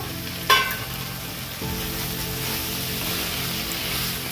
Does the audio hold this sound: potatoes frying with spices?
yes